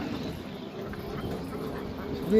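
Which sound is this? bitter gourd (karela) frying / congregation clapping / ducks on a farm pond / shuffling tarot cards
ducks on a farm pond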